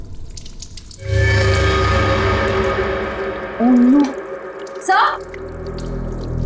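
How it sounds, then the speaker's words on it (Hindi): Water runs steadily in a bathroom, a continuous hiss that carries through the scene while voices call out over it. "बाथरूम में पानी बहने की आवाज आ रही है।"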